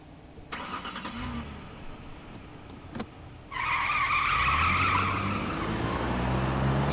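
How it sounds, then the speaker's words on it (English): Futuristic gas-powered car engines in the video game Robocop: Rogue City: a few sharp knocks, then a loud engine revs up with tires skidding and screeching, sustained and close. "listen to those gas engines. Futuristic gas-powered engines."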